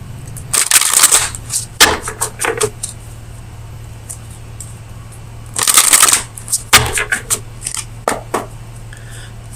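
Oracle cards are shuffled and handled up close, with two long riffling bursts separated by shorter flicks and snaps of cards, over a faint steady hum and no speech.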